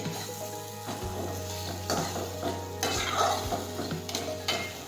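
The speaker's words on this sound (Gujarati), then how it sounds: "હવે આ રીતે આપણે સાતળી લઈશું." Grated ginger sautés in a pan for urad dal curry, a steady sizzle under repeated scraping stirs of a spoon against the pan, close and continuous.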